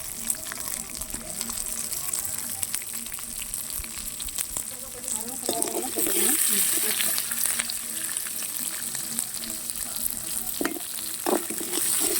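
Sliced onion and garlic frying in a pan, a steady close sizzle with stirring scrapes over it throughout, growing slightly louder midway, with faint background sounds.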